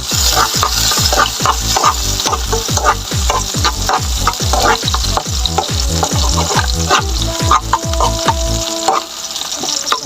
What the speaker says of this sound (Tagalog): Ayan na po, mainit na yung ating mantika. Ganyan natin yung ating bawang.